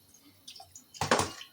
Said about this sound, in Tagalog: Ganito ako maghugas. Matipid sa tubig.